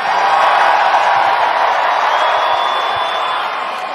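Wrestling arena crowd cheering for Lita and Trish Stratus, a broad, steady roar of many voices filling the hall, loud and sustained, easing off slightly toward the end.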